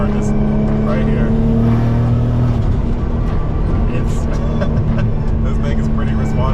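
Single-turbo Nissan R32 GTR engine droning loudly and steadily up close, revving with a constant rough roar throughout.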